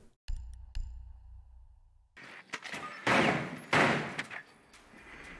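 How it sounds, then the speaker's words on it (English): Gunfire rings out in a competitive shooter match, with a couple of sharp early shots and then a dense burst of loud, close blasts with reverberant tails. "They have bandit shotgun again"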